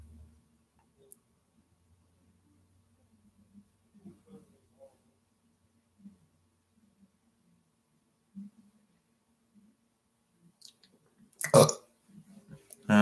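A single loud burp bursts out near the end of a quiet live-stream stretch, after scattered soft clicks and faint room noise.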